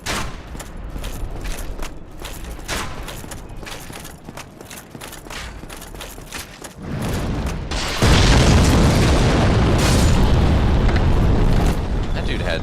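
Bomb blasts from a bomb-throwing enemy in Dark Souls, booming amid a dense, noisy game soundscape, with a heavier sustained roar swelling over the final seconds.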